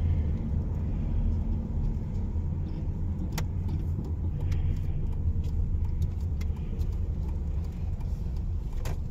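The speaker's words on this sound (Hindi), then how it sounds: "पार्किंग में जा रहे हैं, ये देखें जी इस तरह से यहाँ पे हमने गाड़ी पार्क करनी है।" A car drives into a parking lot near a mosque and parks. A low engine rumble and road noise run steadily from inside the vehicle, with a few faint clicks and knocks and no voices.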